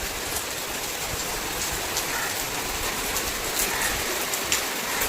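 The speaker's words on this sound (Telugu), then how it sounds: "వర్షం పడుతుంది." Steady rain falls outside a house doorway with gusting wind, a continuous broadband hiss with scattered louder drops and no voices.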